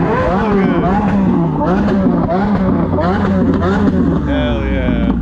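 Loud revs from a Chevrolet Corvette C8 at a Cars and Coffee meet, repeated rising and falling engine sweeps close by, with people talking over them.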